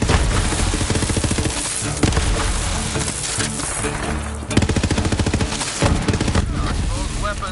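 Rapid automatic gunfire from Borderlands 3 weapons, dense and loud throughout with bursts of machine-gun fire and booming impacts over a game soundtrack.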